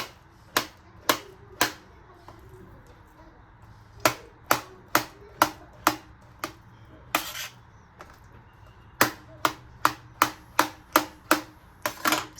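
A knife cuts ripe bananas on a board for sweet banana bonda, producing sharp, crisp taps that come singly and in quick bursts, close and clear against a quiet room.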